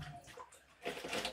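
Water poured over a dog being bathed and deloused at home, a soft splashing and trickling that swells near the end, faint and close.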